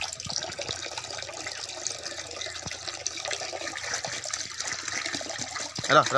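Water pours and splashes steadily into a bucket nearby, a continuous gurgling stream, fairly quiet with faint background sounds.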